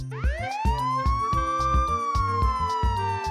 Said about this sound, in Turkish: Bu bir polis arabası. Polis arabası